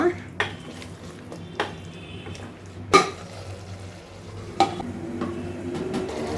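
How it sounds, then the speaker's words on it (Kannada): A spoon stirring tomato puree into hot oil in a metal pot while cooking biryani, with a few sharp clanks against the pot over a low sizzle and soft scraping, close and moderately loud. "ಇದರಲ್ಲಿ 2 ಸ್ಮಾಲ್ ಸೈಜಷ್ಟು ಟೊಮೆಟೊನ ಪ್ಯೂರಿ ಮಾಡಿ ಇಟ್ಕೊಂಡಿದ್ದೀನಿ, ಅದನ್ನು ಆ್ಯಡ್ ಮಾಡ್ತಾಯಿದ್ದೀನಿ. ಮಿಕ್ಸ್ ಮಾಡೋಣ."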